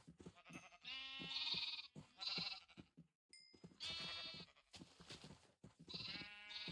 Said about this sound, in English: We now have a flourishing sheep farm.